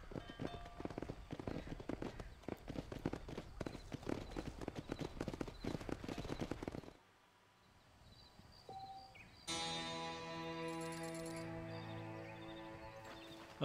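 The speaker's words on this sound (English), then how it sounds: "I killed my fucking horse." A horse's hooves clip-clop at a steady trotting rhythm in the video game Red Dead Redemption, moderately loud for about seven seconds, then fall quiet before music takes over.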